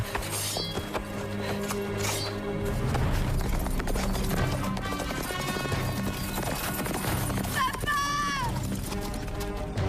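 Horse hooves clip-clop steadily beneath a dense, busy fantasy-series soundtrack of music and effects, with a brief whinny-like call near the end.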